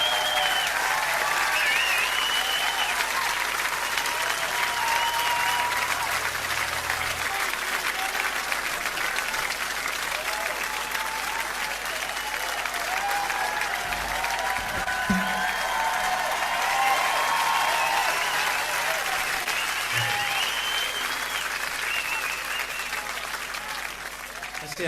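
At a jazz concert, an audience applauds steadily as a trombonist, a clarinetist and another musician walk on stage: a dense, continuous wash of clapping that holds for the whole stretch, with faint crowd murmur underneath.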